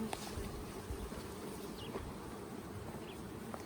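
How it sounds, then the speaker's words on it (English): Honey bees hum faintly and steadily around an open hive in a commercial beekeeping yard, a soft continuous drone with no voices. "Busy bees"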